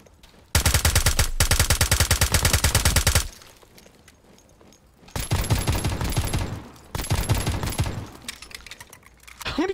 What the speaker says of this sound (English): How many times do I have to shoot these guys?